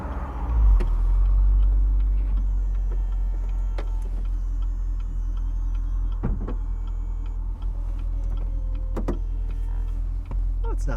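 Power soft top on a 2017 Chevrolet Camaro 2SS convertible raising, a steady low motor hum with occasional clicks and latching knocks throughout, close by inside the car.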